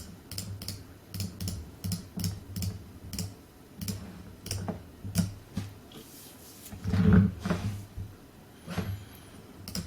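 A computer mouse clicks rapidly during image editing in design software, a steady run of crisp, close taps with brief pauses over a low background hum.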